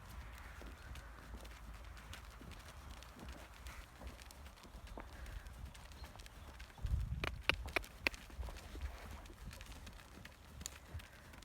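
Horse trotting on a soft surface, a series of rhythmic hoofbeats at moderate distance over quiet background, with a few louder thuds midway and no voice.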